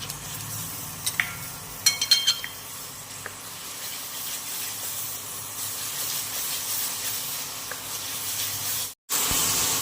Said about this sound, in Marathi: जी टॅमॅटोची प्युरी केलेली होती ती टाकून घ्यायची चांगलं तेल सुटेपर्यंत आता मसाला परतून घ्यायचा